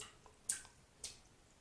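Two quick wet spatters about half a second apart, like water flicked out of a Black Anvil custom shaving brush by sharp shakes; brief and fairly faint.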